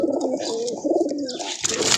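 Several captured domestic pigeons give low, throaty coos close by in a busy, noisy space. A brief burst of rustling comes near the end.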